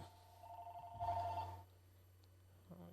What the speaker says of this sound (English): Sorry, someone's calling.